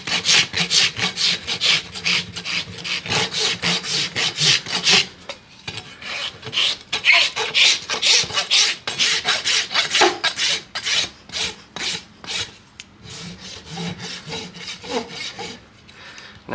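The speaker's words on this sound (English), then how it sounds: "when I'm rasping my foot, I am starting at the high spots and blending them in with the low spots" A farrier's rasp files down a large horse's hoof in rapid, regular back-and-forth strokes, loud and close, with brief pauses between bursts of rasping.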